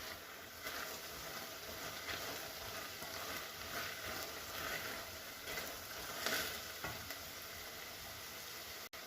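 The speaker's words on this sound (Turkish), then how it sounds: "Şimdi ben kavurmaya devam ediyorum." Okra stir-frying in a pan gives a steady, fairly quiet sizzle with occasional louder scrapes and stirring bursts, continuing without a break.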